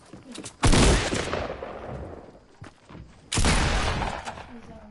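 Fortnite gunfire in two loud sustained bursts, the first running about two seconds and the second about a second and a half, with a few short sharp shots before and between them and a voice talking faintly beneath.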